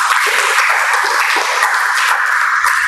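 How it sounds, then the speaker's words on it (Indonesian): A church congregation gathered for an anniversary service in Papua applauds in a steady, dense wash of clapping that holds evenly for a few seconds, loud and close, without talking. "Tepuk tangan."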